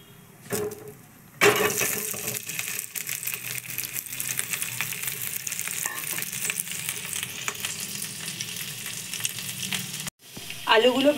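Potatoes fry with asafoetida in sunflower oil in a pan, giving a steady close sizzle with stirring scrapes and splutters. A brief quiet gap comes near the start, and the frying cuts out just before the end, then resumes.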